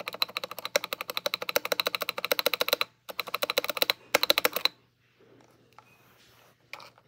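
Quick, crisp keystrokes on a Womier WK61 keyboard come in rapid rhythmic bursts with short pauses between them, close and fairly quiet, before the clip falls almost silent apart from faint handling noise.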